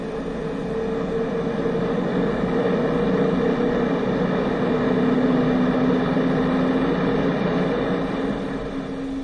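An aircraft on takeoff gives a loud, sustained engine roar with a droning tone that swells slightly midway and holds steady throughout.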